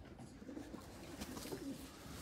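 Racing pigeon cooing in a loft: low soft coos repeated a few times, faint and nearby, over quiet background noise.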